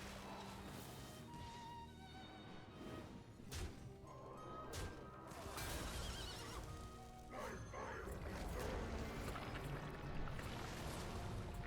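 A horse neighs and hooves clatter in the Hearthstone card game, a whinny ringing through with reverb amid crashing game effects, fairly quiet and mixed with other sounds.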